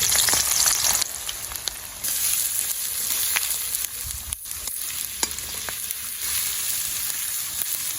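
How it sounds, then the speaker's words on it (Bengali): Onions fry in hot oil in a wok, giving a loud, steady sizzle throughout with occasional stirring scrapes close by. "তেলটা গরম হয়ে গেছে, এবার আমি পেঁয়াজগুলো দিয়ে দিচ্ছি।"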